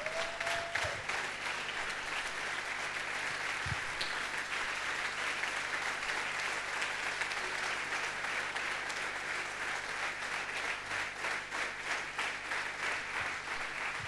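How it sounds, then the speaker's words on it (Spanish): A church congregation stands and applauds the Lord in a sustained, dense wave of clapping that fills the room steadily from start to finish, with no voices standing out. "Puestos de pie, denle un fuerte aplauso al Señor."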